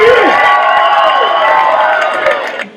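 Protest crowd gathered outside Crony Sports Grill in Agoura Hills cheering and whooping loudly, a dense, sustained roar of many voices with shouts that fades slightly near the end.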